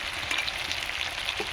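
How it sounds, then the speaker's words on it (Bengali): Chicken and potatoes sauté together in a pan for Bengali lemon chicken, giving a steady, even hiss of frying with faint stirring taps close by. "একই সঙ্গে চিকেন এবং আলু আরও কিছুক্ষণ কষে নেব।"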